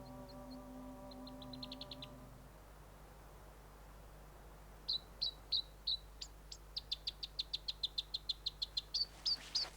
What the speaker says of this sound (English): The robins are in good voice.